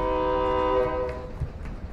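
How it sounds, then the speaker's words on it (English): A train in the Call of Duty: Warzone video game sounds a sustained, loud horn for about a second, then rumbles on with low mechanical noise and scattered clanks. "This is my train."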